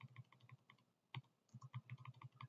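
Rapid keystrokes on a computer keyboard while tuning a radio receiver in software on a Windows PC, close and crisp in quick bursts with a brief pause midway.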